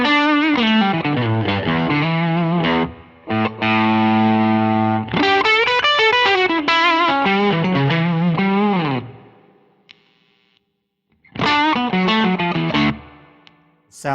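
Lead guitar through a Way Huge Red Llama overdrive dialed for a solo tone, sustained singing single-note lines with bends and vibrato, a short run of fast notes, then a fading pause before another phrase; loud, close and without talking.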